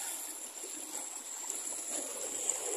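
Water of a stream runs through Todgha Gorge, a soft continuous rushing and trickling at a moderate distance, steady and unbroken, with no voices.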